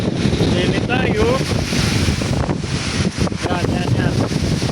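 Strong typhoon wind with rain buffets an outdoor microphone beside rice paddies, making a loud continuous roar with gusty swells, while someone talks over it and birds chirp faintly.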